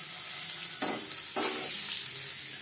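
Eggs with salt and turmeric fry in a pan for egg khichuri, a steady close sizzle with two short bursts of louder hissing and spattering, no talking.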